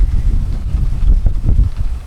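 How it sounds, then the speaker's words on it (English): Wind gusts across an outdoor microphone as the sky darkens before rain, a steady low rumble that swells and buffets in waves for the whole stretch, with no voices. "It's getting dark and windy"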